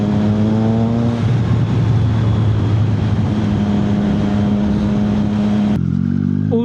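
Motorcycle engine running loud and close while gears are upshifted without the clutch, a steady harmonic drone that drops in pitch at about 1.2 s and again near 5.8 s, each time climbing back as speed builds.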